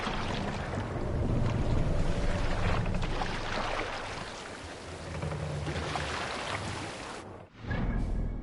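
A Viking longship heads out to sea in Assassin's Creed Valhalla, with a steady wash of water, wind and creaking hull that swells and ebbs before a short drop near the end.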